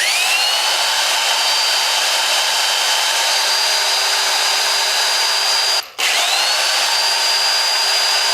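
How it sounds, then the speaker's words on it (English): An old school corded power drill whines steadily at high speed, loud and close, cutting out briefly near the end before spinning up again; no voices. "And an old school power drill."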